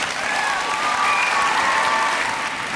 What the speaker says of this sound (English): let's give Julissa another round of applause